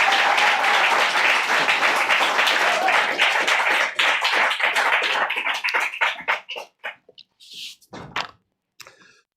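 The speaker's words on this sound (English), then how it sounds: "give a very warm round of applause to Tom Laichas" An audience at a poetry reading applauds for a reader, starting as dense, loud clapping that thins out into scattered individual claps and stops, with a few knocks or thumps near the end.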